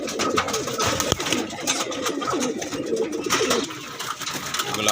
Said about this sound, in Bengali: তা আমার ফ্লাইং জোনের নর কবুতর